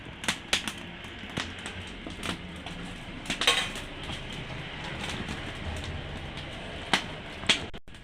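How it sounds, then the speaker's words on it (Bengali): A metal karai wok is set onto a lit stove while making ripe jackfruit fritters. Scattered close metallic clinks and knocks rise over a steady low background hiss. "আমি জ্বালাই দিছি, আমি কড়াইটা বসাই দিই।"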